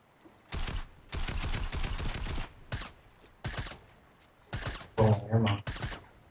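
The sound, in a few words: submachine gun fire in a video game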